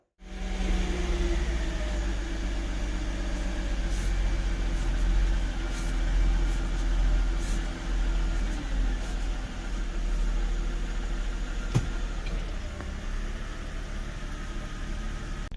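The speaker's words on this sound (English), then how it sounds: "now the engine is warmed up" A warmed-up Mercedes engine idling, a steady low rumble held at an even level for about fifteen seconds, with faint mechanical ticks and one brief sharp click near the end.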